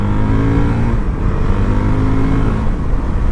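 A 2019 Honda CRF450L dual-sport motorcycle accelerating down a road, its engine droning loud and close with a steady, rising harmonic tone throughout.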